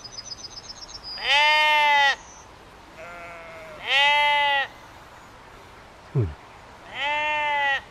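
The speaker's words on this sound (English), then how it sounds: "Sheep in abundance." Sheep in a field at a rural centre give four loud, drawn-out bleats spaced a second or two apart, close by, over quiet outdoor background with a brief higher call in between.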